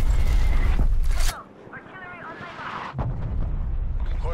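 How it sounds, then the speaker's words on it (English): Artillery strike explosions in Call of Duty Cold War boom loudly in a heavy rumbling burst, drop away, then rumble again, with game voices and battlefield noise mixed in. "Hostile artillery targeting active."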